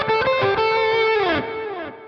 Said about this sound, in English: I can then turn the delay on